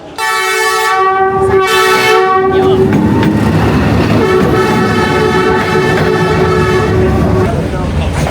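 A long train rumbles past very close on street tracks between houses in Hanoi, wheels clattering steadily on the rails, with a loud horn blaring near the start over the continuous roar.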